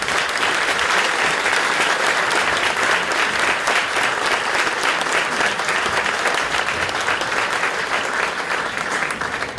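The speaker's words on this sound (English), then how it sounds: "you guys can give them applause for their participation" At a mayoral debate, the audience applauds the candidates for their participation, a long, loud, steady round of clapping from a large room that tapers slightly near the end, with no voices over it.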